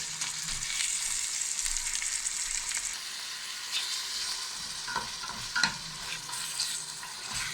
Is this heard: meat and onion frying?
yes